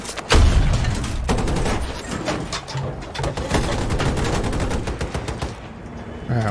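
Battlefield 2042 combat on the reworked Hourglass map, with rapid, sustained automatic gunfire rattling almost continuously, loud and close, over a dense battlefield background.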